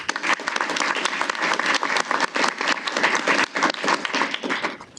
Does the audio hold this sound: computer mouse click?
no